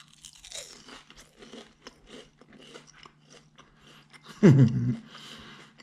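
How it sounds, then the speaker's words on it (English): Fried halibut caught off the Seal Beach, California jetty is bitten into with one sharp, loud, close crunch near the end, after quiet chewing and mouth sounds. "nice and moist in the inside, crunchy on the outside"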